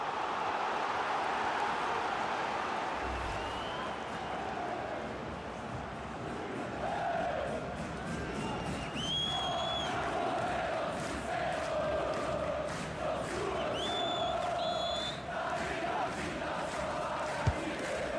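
Stadium crowd in a FIFA 23 football match, a steady distant roar of fans with rising chants and whistles, continuous throughout under game ambience.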